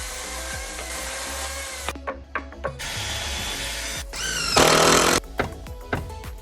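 A power drill bores into wood in bursts with short pauses, rising to a louder, higher-pitched grinding whine midway before stopping; mechanical clicks punctuate the gaps.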